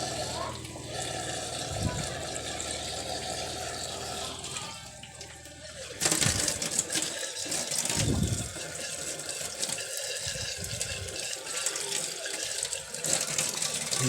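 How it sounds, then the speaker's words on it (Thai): Running tap water splashes steadily while a wild Nile tilapia from Nong Han is washed by hand, with a voice talking over the noise and occasional louder gushes and handling sounds. "ล้างสักคักนะล้างให้สักคักล้างสักคัก"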